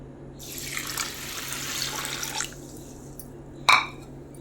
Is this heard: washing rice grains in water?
yes